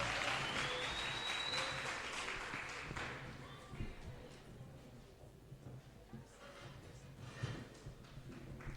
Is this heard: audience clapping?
yes